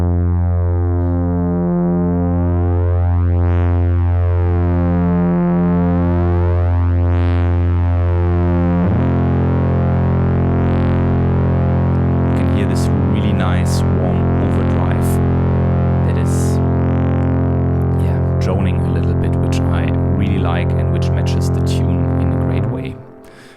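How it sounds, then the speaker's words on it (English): Moog Subsequent 25 analog synth drones a low repeating bass pattern, then the multi-drive filter overdrive is raised, turning the tone gritty and buzzing with sweeping filter movement, loud and alone. "multi-drive actually is basically just a knob here or a drive function to overdrive the filter, and this adds some really nice movement"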